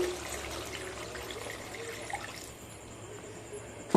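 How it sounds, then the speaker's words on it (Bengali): About 150 ml of water is poured into cauliflower paneer rezala cooking in a pan, giving a steady, soft splashing stream that ends in a brief clatter. "খুব ভালোভাবে কষানো হয়ে গেছে এবার জল দিয়ে দেব জলটা এখানে পরিমাণ মতো দেবেন"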